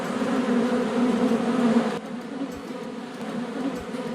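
Bees buzz densely around a beekeeper's hives in a garden, a close, continuous droning hum that drops slightly in loudness partway through, with no talking.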